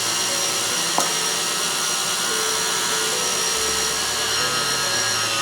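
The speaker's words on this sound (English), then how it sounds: "I turn the mixer off because I don't want a puff of white flour." An electric stand mixer whirs steadily as it mixes a pound cake batter of flour, baking powder and salt, a loud continuous motor hum with a brief clack near the start and no talk.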